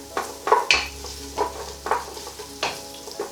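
Onions cooking in a pan for a sweet potato curry, a soft sizzle under repeated scraping and clinking strikes of a utensil against the pan, close and uneven in rhythm.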